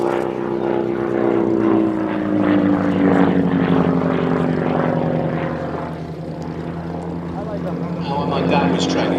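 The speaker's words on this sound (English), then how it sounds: "And as Tim said earlier, this aircraft is one of the most popular with all the Shuttleworth pilots as a pilot's aeroplane." A Percival Provost piston aircraft flies past at an air show pageant, its propeller engine droning loudly with a slowly falling pitch as someone talks over it.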